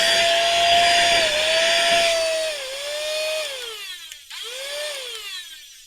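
A small handheld electronic suction device runs with a steady high-pitched motor whine that dips and wavers as it works. The whine cuts out briefly, then comes back.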